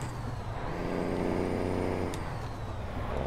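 Heavy trucks in American Truck Simulator, including an older 94 100i, rumble with a steady low engine drone. A sharp air-brake hiss cuts in briefly near the end.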